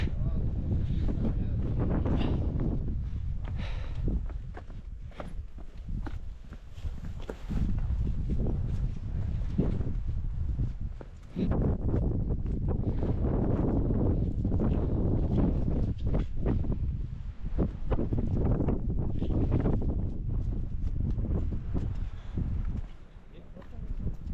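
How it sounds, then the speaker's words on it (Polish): Strong wind buffeting the microphone on a mountain hiking trail in Madeira, heavy continuous roaring gusts throughout, with a person talking at times. "Wieje strasznie."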